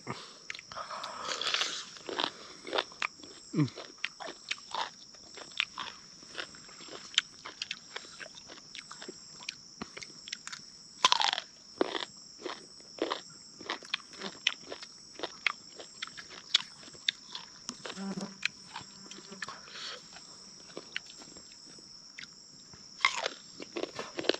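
Sour mango being eaten at night, with repeated crisp bites and crunchy chewing at an irregular rhythm, close and fairly clear with no talk.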